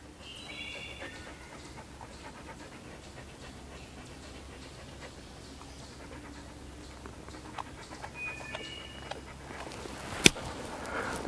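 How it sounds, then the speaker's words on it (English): Dogs pant quietly and steadily on a July walk in the woods of Fleetwood Creek Conservation Area, with a few faint bird chirps and chipmunk calls around them and a sharp knock near the end. "And then you can hear the dogs panting."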